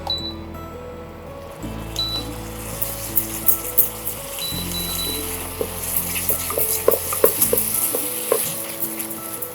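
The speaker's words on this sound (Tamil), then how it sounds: "நல்லா கொதிச்சிடுச்சு, கெட்டியாக ஆரம்பிச்சிடுச்சு." A thick lentil and spice mixture bubbles and pops in a pot as it boils and thickens, irregular little bursts over a low steady hum, close and fairly soft.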